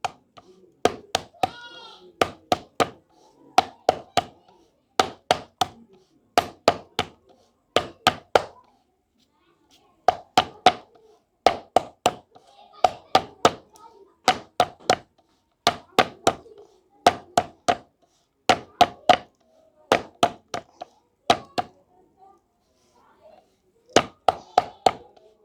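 Hands slap and pat jowar (jonna) roti dough flat in a steady series of sharp, close slaps, grouped in quick bursts with short pauses between, with no other sound around them.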